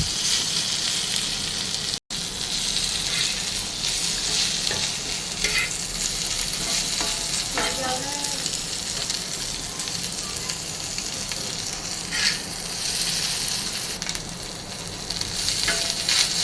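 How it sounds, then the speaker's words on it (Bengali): Taki fish stirs in a hot pan of frying oil, with a loud continuous sizzle, scraping stirs and crackles throughout, close up, and a brief dropout early on. "মাছটা দিয়ে হালকা নাড়াচাড়া করব।"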